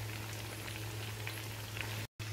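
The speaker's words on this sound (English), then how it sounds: "So remove them while the fish is frying" Pearl spot fish frying in hot oil gives a steady, dense sizzle with a faint low hum beneath, continuous until a brief cut near the end.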